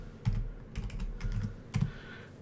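Typing a folder name on a computer keyboard: a few short clusters of close, crisp key clicks separated by brief pauses, with no voice over them.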